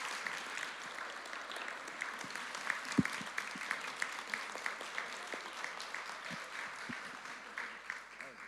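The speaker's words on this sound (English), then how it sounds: "Can we have another round of applause?" Applause at a dads' conference rolls on steadily at moderate distance, with a few sharper individual claps standing out and faint talk underneath.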